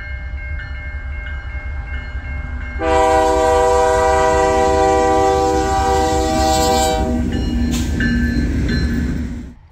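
A BC Rail train rumbles past slowly under a 10 mph speed restriction in Manitoba as a loud, sustained horn blast sounds close by for several seconds before tapering off.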